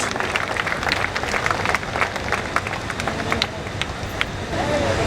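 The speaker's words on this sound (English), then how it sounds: "Applause." An audience at a cultural festival stage show applauds an artist, dense sustained clapping with crowd murmur that continues steadily.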